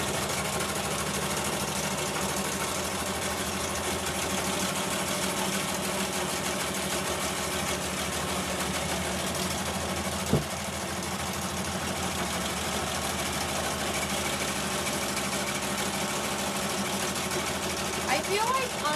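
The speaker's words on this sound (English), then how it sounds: "now it's gonna do the outline satin." Industrial embroidery machine stitching a satin outline on a vinyl in-the-hoop zipper bag, giving a steady, continuous mechanical whir with rapid needle rhythm throughout, one brief knock near the middle, with talk over it.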